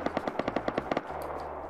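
Rapid Tommy gun fire in the video game Rust, a burst of about ten sharp evenly spaced shots followed by a fainter trailing rumble, fairly distant.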